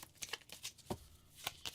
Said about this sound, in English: I'm shuffling, alright?